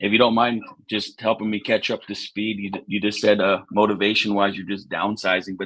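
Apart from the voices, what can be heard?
No everyday noise stands out behind the speech.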